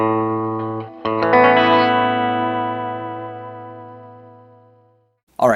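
A Paoletti Lounge Series Nancy electric guitar is played on its bridge pickup: a held note gives way to a strummed chord that rings out bright and slowly fades, followed by a short burst of noise at the very end.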